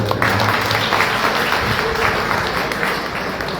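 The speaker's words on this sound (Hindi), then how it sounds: "मैं चाहूंगा कि आप जोरदार एक बार उनकी तालियों से स्वागत करें।" An audience at a public meeting applauds to welcome a guest, a former village sarpanch, with a dense, steady wash of clapping that carries throughout with no one speaking over it.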